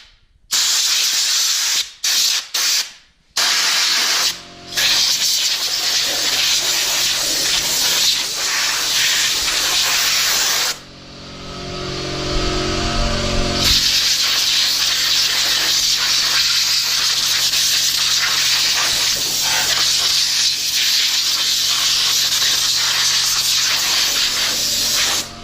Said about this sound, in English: spray all this out.